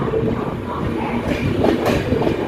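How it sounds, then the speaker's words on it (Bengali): Darjeeling Mail train pulling into Malda Town station, a steady loud rumble of rolling wagons with faint clatter of wheels, close by and continuous without talk. "অবশেষে মালদা টাউন ট্রেন ঢুকলো"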